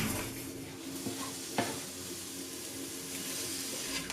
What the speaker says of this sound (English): Saute the mushrooms and onions in a tablespoon of oil at medium-high heat